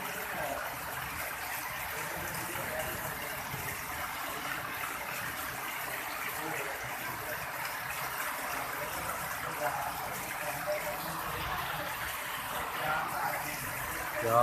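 Heavy rain pours from rooftop drain spouts in Alipur Chatha, Gujranwala, making a continuous, even gush and splatter of water that holds steady throughout.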